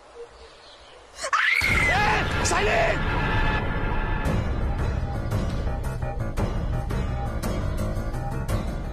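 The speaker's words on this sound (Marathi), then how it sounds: "कोणतरी आपल्यातलंच किंचाळल्याने वाटायलंय मला" A person screams loudly and shrilly in a Marathi TV serial scene, the sharp wavering cry breaking out suddenly after quiet talk and followed by tense dramatic music.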